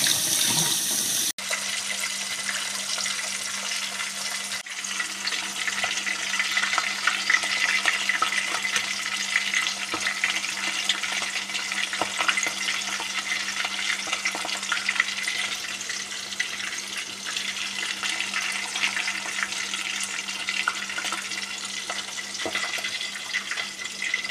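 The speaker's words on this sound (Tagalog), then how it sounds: "Lagyan natin ng malamig na tubig para matigil yung cook yung process niya." Cold water runs steadily from a tap over freshly cooked harvested food in a sink, a continuous close splashing stream that holds even throughout with no talking.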